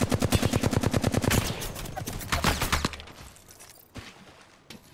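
Rapid automatic gunfire from the video game Apex Legends rattles loudly in a fast burst, then gives way to scattered quieter shots and game sounds.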